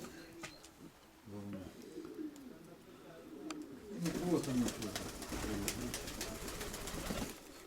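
Pigeons coo softly in the background in an attic while someone speaks briefly, with some rustling and movement noise growing louder toward the end.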